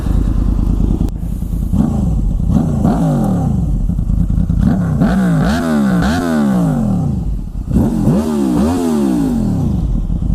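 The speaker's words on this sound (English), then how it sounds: "That was a good rev for you guys." Modified Honda VFR800 V-TEC motorcycle engine revved repeatedly, loud rising and falling blips in a steady rhythm over continuous idle rumble, close up.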